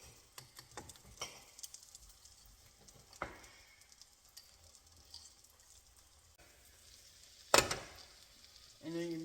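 Eggs cooking in oil in a pot for breakfast, with a faint steady sizzle and frying crackle running throughout, broken by a few clatters and a sharp loud clank near the end.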